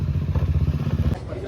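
A friend's new motorcycle idles nearby with a steady low rumble, broken by clatter and light thumps, and the engine drops away near the end.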